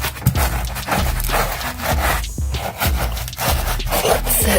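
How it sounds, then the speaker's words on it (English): Scrubbing tar with Dawn dish soap and baking soda, loud close rhythmic rubbing strokes, steady back-and-forth brushing with brief pauses. "I gotta scrub it in first."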